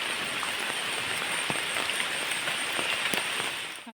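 Steady rain pattering on a surface, a dense broadband hiss with occasional louder drops, continuous throughout and fairly close.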